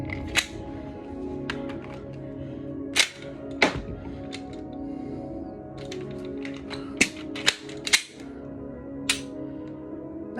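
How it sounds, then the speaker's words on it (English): An unloaded gun is dry-fired in practice: sharp, isolated trigger clicks snap out at irregular intervals, about ten in all, close and crisp over a quiet background with no speech. "Also helps you with learning how that dead trigger feels."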